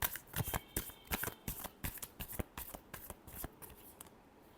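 Tarot cards riffled and shuffled by hand in a quick run of crisp, close slaps and flutters lasting several seconds, with no talking.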